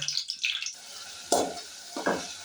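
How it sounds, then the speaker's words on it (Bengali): Onion with green and dried chillies frying in a pan, short bursts of sizzling and stirring scrapes separated by quieter gaps, close-up, with no talking. "কাঁচা লঙ্কা, পেঁয়াজ, শুকনো লঙ্কা, মরিচ দেখুন দিয়ে কীভাবে রান্না শুরু হয়ে গেছে।"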